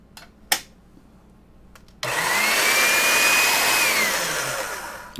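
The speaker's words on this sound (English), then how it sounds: "So I have the clay run through the pasta machine on the thickest setting." Polymer clay for pendants fed through a pasta machine on its thickest setting: after a couple of soft clicks and a thump, a loud, steady whirring drone sets in and holds for several seconds, close by and alone.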